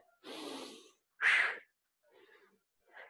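Heavy, forceful breaths during a workout: a long exhale, then a sharper gasping burst, followed by two fainter breaths, close and alone with silence between.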